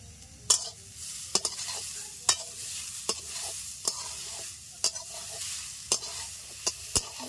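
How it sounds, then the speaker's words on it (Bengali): Spatula scrapes and knocks as grated coconut is stirred in a wok over a stove, sharp clicks every half second or so over a soft, steady sizzle, close and moderately loud with no voices. "কড়াইতে এখন এই নারকেল কোড়া দিয়ে দেবো।"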